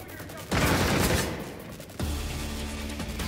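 Rapid gunfire from the Gotham Knights video game comes in two loud, dense bursts, the second fading into a lingering rumble with a faint voice underneath.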